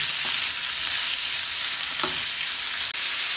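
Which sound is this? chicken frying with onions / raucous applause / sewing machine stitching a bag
chicken frying with onions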